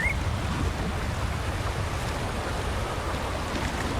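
Loud, steady roar of a huge waterfall in the Wuthering Waves video game, a dense unbroken wash of rushing water with no pauses and no voices.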